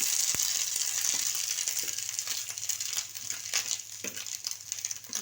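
Dry fruits fry in a pan with a steady, close sizzle and occasional scraping stirs, continuous throughout, without talk.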